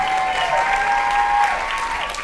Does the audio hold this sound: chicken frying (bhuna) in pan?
no